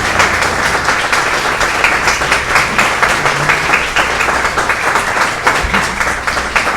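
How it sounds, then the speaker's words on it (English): Attendees at a community forum on Iowa water quality applaud the panelists in a loud, sustained round of dense clapping that runs evenly throughout. "If we could please give these wonderful folks a big round of applause."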